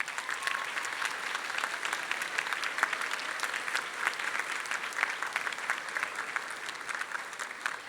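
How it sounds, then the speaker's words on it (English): A crowd of parents, community members and teachers applauds at a high school graduation ceremony, steady dense clapping that holds at an even level throughout without any voices. "Give your parents and community members and teachers a round of applause."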